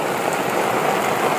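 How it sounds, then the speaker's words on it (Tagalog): Heavy rain falling on a settlement among mangroves, a loud, dense and continuous patter and hiss close by with no voices. "lakas ng ulan"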